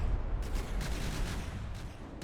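Guns firing during a video game battle, a steady run of faint, distant shots with a few sharper bursts standing out over a continuous rumbling background.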